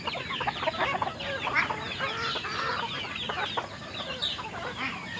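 Texas breed chickens on a farm cluck and chatter in a busy, continuous flock sound, close by and fairly loud, with no talking over them.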